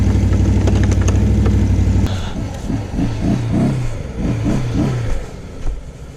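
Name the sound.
Can-Am XMR engine revving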